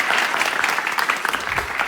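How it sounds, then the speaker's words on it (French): A burst of crowd applause, dense and fairly loud, with clapping that pulses slightly as it carries on for a couple of seconds without a break. "Applaudissements encore une fois."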